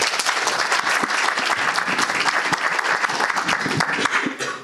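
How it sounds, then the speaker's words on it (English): A lecture-hall audience claps warmly to welcome a guest speaker, a dense, even burst of applause that holds strong for several seconds before thinning slightly at the end. "please give a nice round warm of applause to introduce Dominik."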